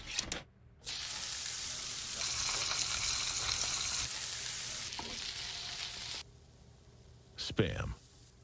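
Spam slices frying in a pan give a steady, loud sizzle that runs for several seconds, broken by short gaps and quieter passages, with a brief flare of sound near the end.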